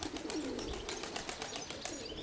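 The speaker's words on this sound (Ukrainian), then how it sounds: "Ага, піднімаються голуби, піднімаються." A quick rhythmic flurry of wing flaps from pigeons taking off, steady and moderately close, with faint background ambience.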